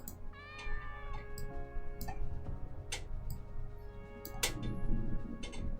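A cat meows in a video game, giving a drawn-out tonal meow followed by several short clicks and ticks, fairly quiet and close with no talk.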